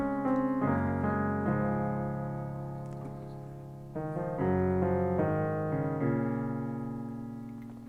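Solo piano plays the closing lines of the accompaniment to Labrinth's "Jealous": sustained chords changing every second or so, ringing and slowly decaying, with no voices.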